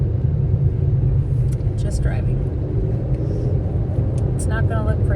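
A car drives along a road with a constant deep engine and road rumble heard from inside the cabin, and brief faint voice sounds over it.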